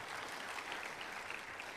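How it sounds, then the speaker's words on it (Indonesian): A church congregation claps together in dense, steady applause, heard fairly quietly and alone for a brief moment. "Berikan tepuk tangan buat Tuhan Yesus ya."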